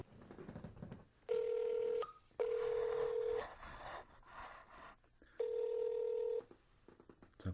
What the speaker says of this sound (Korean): 전화를 걸어보도록 하겠습니다.